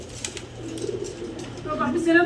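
Large pigeons coo in low, throaty murmurs beneath people talking nearby, the cooing growing a little clearer toward the end.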